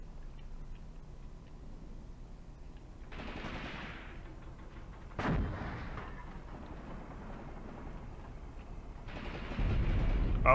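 Anti-tank artillery gun fire in the Kharkov 1942 war game Graviteam Tactics: a rumbling burst, then one sharp, loud report mid-way, and a heavy roaring blast rising at the end, with no voices.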